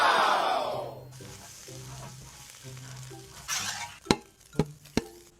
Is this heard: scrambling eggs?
yes